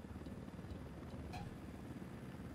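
Chopper in Ghost Recon Wildlands, its rotor thumping in a continuous low pulse at a steady, fairly quiet level, with a brief faint click partway through and no voices.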